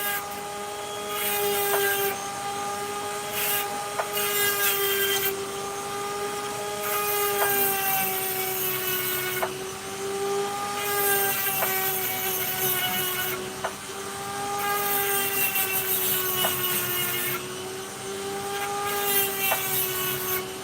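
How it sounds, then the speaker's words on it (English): An opal is smoothed on a spinning lapidary machine, giving a steady high whine with a bright harsh grinding edge and brief rhythmic dips as the stone is lifted and pressed back against the wheel. "Whilst I'm smoothing it, I'm actually starting the faceting process"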